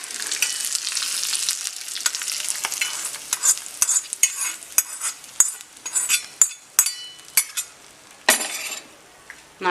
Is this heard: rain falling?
no